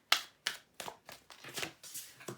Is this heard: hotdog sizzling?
no